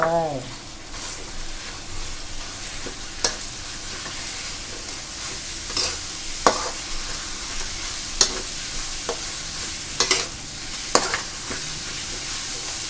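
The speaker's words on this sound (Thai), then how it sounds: "ผัดให้หมูสุกนะคะ" Pork stir-frying in a pan with garlic, shallot and shrimp paste, a steady close sizzle broken by occasional sharp scrapes and clacks of the spatula, with no talking.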